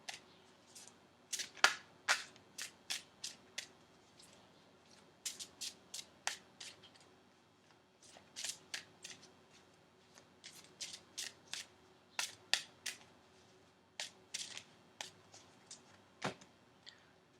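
Slippery tarot cards being shuffled carefully by hand, close and quiet, in short bursts of crisp riffling clicks separated by brief pauses.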